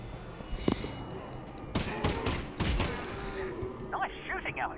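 Gunfire from a pistol in Half-Life: Alyx, a short cluster of sharp shots in quick succession, moderately loud, followed by voices talking.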